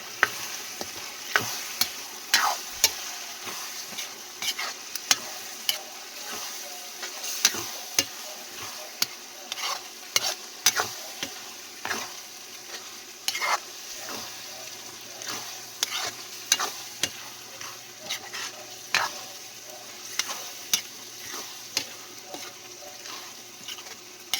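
Bagoong alamang shrimp paste being stirred in a frying pan, with a spoon clinking and scraping in frequent irregular taps over a soft continuous sizzle, close and alone.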